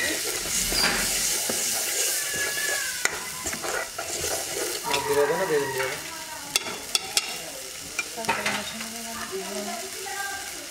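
Spice paste being stirred and fried in a pan, with steady sizzling and repeated scraping stirs, a few sharp clinks of a utensil against metal, close and fairly loud throughout.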